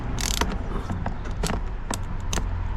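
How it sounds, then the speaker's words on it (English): A tool undoing bolts on an Audi TT Mk3 door card, with close, scattered metallic creaks and ratcheting clicks in short bursts over a steady background. "just undo these bolts."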